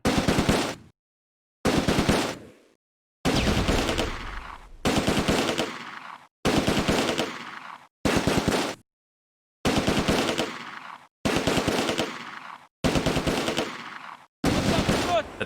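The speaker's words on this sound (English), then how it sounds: "The 30 cals on that little house over there, providing supporting fire." Bursts of .30 cal machine gun fire from the Close Combat video game, ten rapid, loud, close volleys each lasting about a second, with short silent gaps between them.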